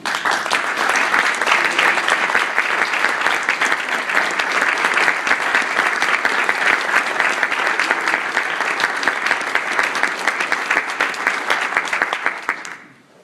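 Sustained applause from a Rotary Club audience in Munster, Northwest Indiana, welcoming Indiana's senior U.S. Senator, Lugar; dense steady clapping fills the room for about twelve seconds before fading out at the end.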